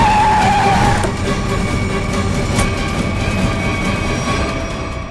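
A car skidding to a halt during a chase, with a loud sustained tire screech and rumbling engine noise that fades slightly toward the end, no voices over it.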